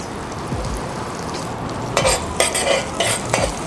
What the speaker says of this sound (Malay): Okey masukkan daun kari